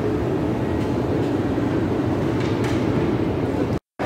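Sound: metro train on the Drumul Taberii line, Bucharest

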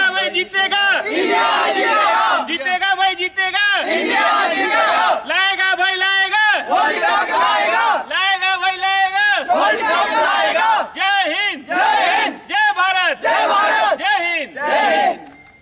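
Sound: crowd chanting India

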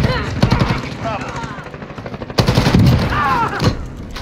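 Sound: gunfire in Modern Warfare video game

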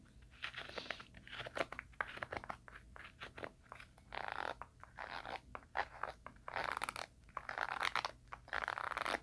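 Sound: rough scratchy zipper being handled

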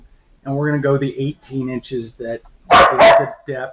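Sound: dog barking

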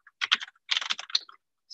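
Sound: typing on a computer keyboard

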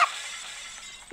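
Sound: glass smashing in a Roblox obby video game

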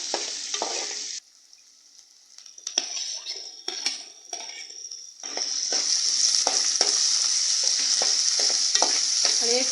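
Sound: sautéing onion and tomato in a pan for ivy gourd curry

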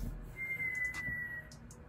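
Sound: person whistling

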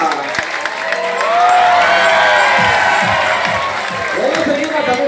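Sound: audience applause and cheering at a sea lion show

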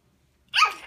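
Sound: child sneezing

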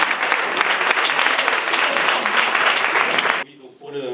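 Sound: audience applause for a band

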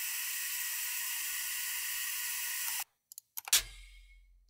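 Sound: oxygen tank release sound effect

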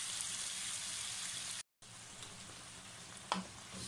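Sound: vegetables cooking in beef stock for tomato sauce

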